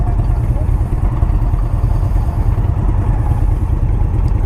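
A liquid-cooled, four-valve-per-cylinder V-twin on a 2018 Indian Scout Bobber ABS idles with a steady low rumble, loud and close, running without a break for several seconds.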